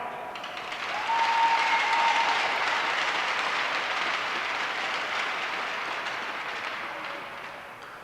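Sustained applause from a crowd at a boys' high school hockey game honoring senior players, a dense wash of clapping that swells quickly, holds for several seconds, then slowly fades.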